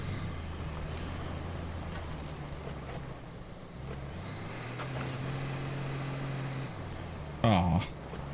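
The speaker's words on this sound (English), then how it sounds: "All right, let me get in my truck." Truck engine idling in the road-building game RoadCraft, a steady low drone that shifts pitch midway and runs throughout, with a brief harsher burst near the end.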